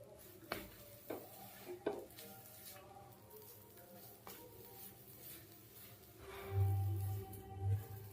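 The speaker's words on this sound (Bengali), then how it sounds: "গ্যাসটাকে মিডিয়ামে রেখে নেড়ে চেড়ে গাজরটাকে শুকাতে হবে" Grated carrot is stirred and turned in a pan over a medium gas flame to dry it out, giving soft, quiet scraping and patter strokes with a low sizzle beneath.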